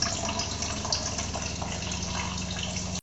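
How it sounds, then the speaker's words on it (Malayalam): Water from an RO water purifier outlet flows steadily and continuously, a close, even rushing stream as the first output is drained away, with no talk. "ഈ ഫസ്റ്റ് കിട്ടുന്ന പ്രൊഡക്ഷൻ നമ്മൾ മൊത്തം വെള്ളം നിറഞ്ഞു കഴിഞ്ഞാൽ ഡ്രെയിൻ ചെയ്ത് കളയേണ്ടതാണ്."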